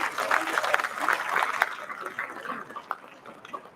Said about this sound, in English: Please give a huge round of applause to the speaker.